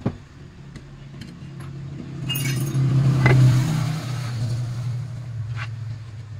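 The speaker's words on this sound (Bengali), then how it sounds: "এবারই চাকা লাগাচ্ছে কাকু।" A mechanic fitting a wheel onto an engine van whose brakes are being repaired, with metallic clinks and jangles over a steady low engine hum, close and moderately loud with no talking.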